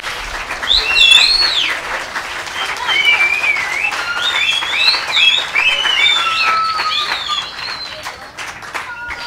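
Sustained applause from a crowd at a private school gathering fills several seconds steadily, with chirping birdsong audible throughout.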